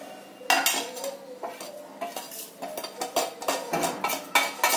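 Dry spices, garlic and ginger paste and sambar powder tossed together in a bowl for onion bhaji batter, with repeated close clinks and scrapes of a utensil against the bowl in an irregular rhythm, no voices.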